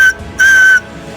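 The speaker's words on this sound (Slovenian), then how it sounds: "Dobra piščalka, ne?" A whistle made from a bullet casing at a summer survival camp gives two loud, shrill blasts, a short one and then a longer sustained one, with nothing else heard.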